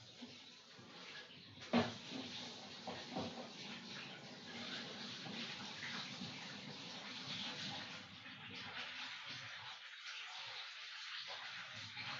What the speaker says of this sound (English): Let me just wash the palette because we're going to use it for something else. I'm going to wash the brush as well.